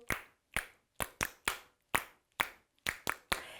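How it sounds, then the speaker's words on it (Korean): Young children at a Sunday infant-department church service clap hands in a slow, loose rhythm, about nine distinct, sharp claps close by and spaced roughly half a second apart, with quiet gaps between. "오, 박수 소리"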